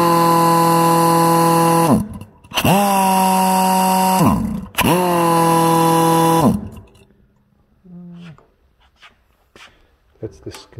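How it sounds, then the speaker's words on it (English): A Chicago Pneumatic Power Vane Model A pneumatic drill, a rock drill modified for a half-inch bit, runs in three loud sustained bursts with brief pauses between, then winds down to quieter clicks and handling noises. "this looks like a rock drill to me, but it looks like it's been maybe modified to a half inch drill bit"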